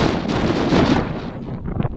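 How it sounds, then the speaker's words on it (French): Strong wind gusting outdoors on a January day, a loud, steady roar buffeting the microphone throughout with no talking. "Le vent s'est levé."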